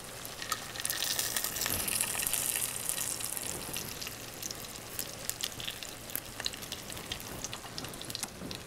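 Whole cumin seeds frying in hot oil in a pan give a steady soft sizzle and crackle, with scattered pops, fairly quiet and close, with no talking over it.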